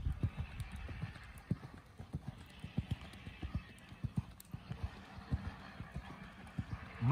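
Steady clip-clop of a purebred Lusitano horse's hooves at a lively, rhythmic gallop under a rider, moderately distant, over a low outdoor rumble.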